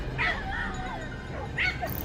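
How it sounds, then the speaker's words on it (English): Hunting dogs bark and yip from brush on a mountainside during a wild boar chase, two bursts of excited, fairly close barking with whimpers in between. "The dogs barked furiously from within the brush, and I rushed toward the sound."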